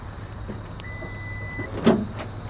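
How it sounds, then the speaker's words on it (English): Power tailgate on a 2025 Toyota Tundra TRD Rally pickup runs with a thin, steady motor whine for about a second, followed by a louder clunk as it latches, over a low idling rumble. "Power operated tailgate, standard size bed."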